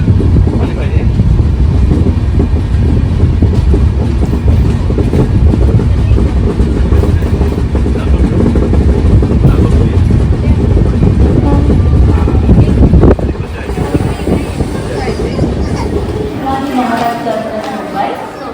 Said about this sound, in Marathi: कल्याण स्टॉप. जलद लोकल आहे.